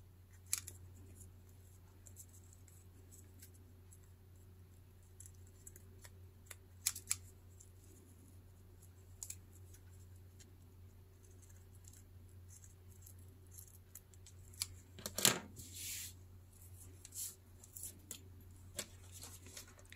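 Scissors snipping paper decoupage ephemera against a steady low hum, with sparse small cuts and one more distinct snip partway through, faint and close.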